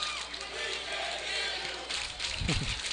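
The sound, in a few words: home baseball crowd cheering and yelling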